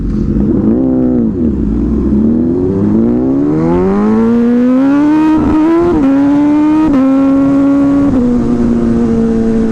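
Hyper naked motorcycle engine revving hard while riding, pitch climbing steadily through the gears with brief drops at each shift, loud and continuous with no talk.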